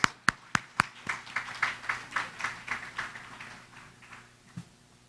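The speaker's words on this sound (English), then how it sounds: "let's give her another round of applause" Applause for a singer at an awards ceremony: a few sharp claps, then a short rhythmic burst of clapping that fades out, faint and distant in a quiet room.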